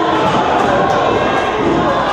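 A wrestling arena crowd roars and cheers loudly and steadily at a women's wrestling event, a dense wall of voices filling the hall.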